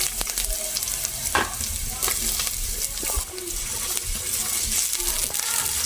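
Chopped capsicum sautés in a hot pan for a mixed-vegetable kebab, a steady close sizzle broken by scraping stirs and occasional light clinks of the spoon against the metal.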